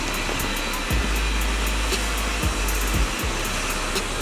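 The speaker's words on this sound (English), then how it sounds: "this amazing cool vacuum cleaner" A robot vacuum cleaner runs indoors around table legs with a steady, close whirring motor hum and brushy airflow, broken by a few soft bumps and thumps as it moves across the floor.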